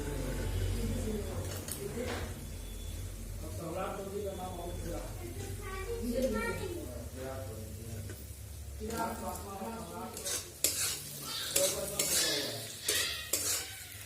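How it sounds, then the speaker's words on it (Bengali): Potatoes stirred and frying with spices in a pan, a steady close sizzle with spoon scrapes and pan clinks, voices talking over much of it. "আলুটা দিয়ে ভালো করে ভেজে নেবো মশলার সঙ্গে"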